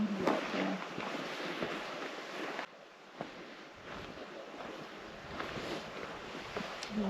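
Steady wind buffets and rushes outdoors along Minnesota's North Shore and Gunflint Trail, a broad noisy roar with gusts rising and falling throughout.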